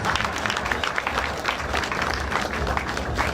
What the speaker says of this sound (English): So please try and give me a bit of a round of applause.